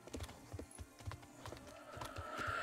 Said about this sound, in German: das Pferd schnauft schon